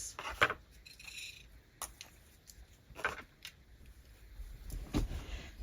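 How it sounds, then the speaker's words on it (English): Wire is snipped with a few sharp metallic clicks spaced out over several seconds, close and fairly quiet, with light handling noises between cuts. "And then I want to use some of this wire for the background. So I'm going to cut me off a piece."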